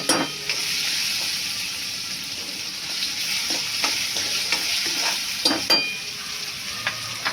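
Dal and vegetables fry in a pan with a continuous close hiss and sizzle, while a spoon scrapes and stirs, tapping the pan in irregular knocks over the frying.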